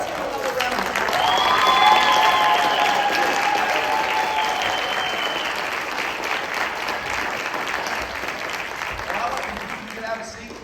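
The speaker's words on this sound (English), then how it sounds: "Let's give another round of applause." Sustained audience applause at a Christmas orchestra concert, swelling over the first couple of seconds and then holding steady as a dense, continuous wash of clapping from a large crowd, with some talk mixed in underneath.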